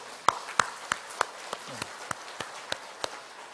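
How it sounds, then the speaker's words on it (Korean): Steady, evenly spaced hand claps ring out in a church congregation, about a dozen sharp beats at a regular rhythm, fairly faint against a quiet room. "성령님께 영광과 감사의 박수를 한번 올려드립시다"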